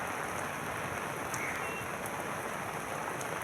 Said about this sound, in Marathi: भिवंडीला देखील जोरदार पावसानं झोडपून काढलेलं आहे